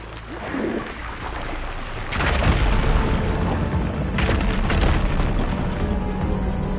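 A fire gleam ignites and bursts to clear rubble in Horizon Forbidden West, giving a loud boom with rumbling debris that starts about two seconds in, followed by a second burst near four seconds over a continuous game soundscape.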